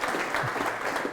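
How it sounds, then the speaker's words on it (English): An audience on a Kenyan talk show bursts into steady applause, a dense wash of clapping that stays loud and even for about a second without a break. "Please clap for her for that."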